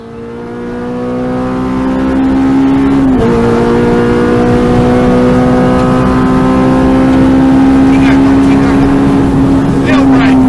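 Engine of a K-swapped Renault Clio with a custom exhaust revving and pulling hard, a steady loud droning tone that climbs in pitch, with a brief dip near three seconds before rising again, close up with voices under it.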